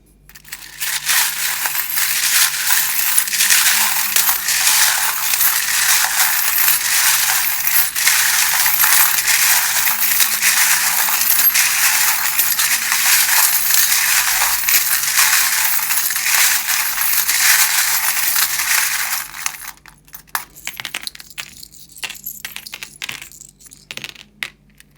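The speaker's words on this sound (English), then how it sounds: "you might just want to turn it down while I shuffle them, because they can be a bit loud" A deck of tarot cards is shuffled continuously for about twenty seconds, a dense, steady papery riffling and crackling up close, before it stops and a few faint scattered rustles remain.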